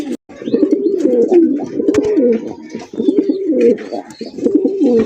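Big-sized fancy pigeons cooing close by, with repeated rolling coos in steady bursts and a few light clicks and scuffles between calls.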